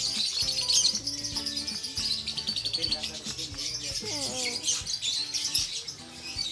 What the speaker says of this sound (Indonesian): Kasihan gak kalau lihat burung dikurung kayak gini, kira-kira gimana?